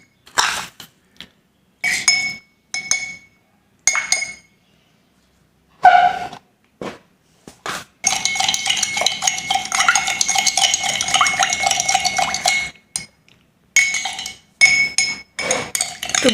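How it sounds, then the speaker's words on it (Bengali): A spoon beats sugar against the inside of a glass for homemade Sprite, giving a close, loud run of rapid clinks and scrapes that continues for several seconds, with shorter bursts of clinking before and after. "একটু ভালো করে ফেটে নিতে হবে চিনিটা"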